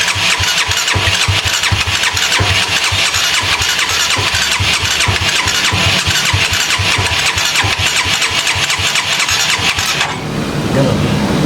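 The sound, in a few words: motorcycle engine revving with the throttle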